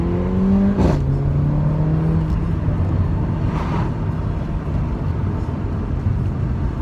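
A Mercedes-AMG engine pulling under light throttle from inside the cabin, a steady loud drone with a tone that drops once as it shifts, steady road and wind roar throughout, no voices.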